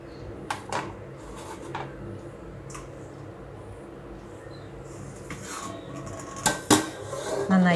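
Potatoes being set into an oven dish and covered, a few sharp clinks and knocks of metal and cookware spread across a quiet stretch, with a cluster of louder clatters near the end, close by.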